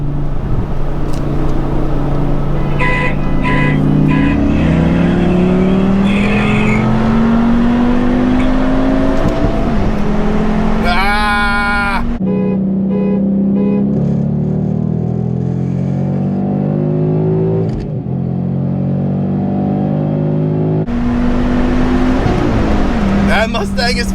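A Volvo V70R and a Ford Mustang race on a highway, engines roaring loudly and rising in pitch through repeated gear changes, with a high whine at moments and people talking excitedly over the noise.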